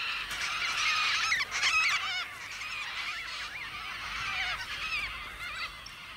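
Major Mitchell cockatoos call in the Australian outback, a continuous overlapping chorus of harsh, wavering screeches from several birds at moderate distance, with no voices over it.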